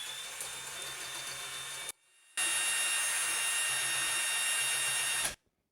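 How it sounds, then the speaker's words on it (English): A degassing wand spun by a drill mixes wine must inside a carboy, a steady loud whirring drone that stops briefly and then resumes before cutting off. "my degassing one, which acts as a pretty good mixer"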